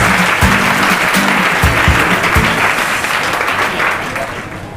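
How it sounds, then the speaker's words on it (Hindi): Studio audience applause on the Kaun Banega Crorepati quiz show, a loud, sustained wash of clapping filling the hall for several seconds with a low musical tone underneath, fading slightly toward the end. "जोरदार तालियां बजाएं इनके लिए भाई"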